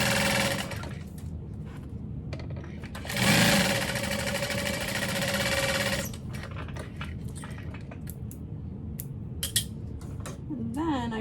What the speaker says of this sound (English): I'm gonna sew down the sides to reinforce with a nice fresh bobbin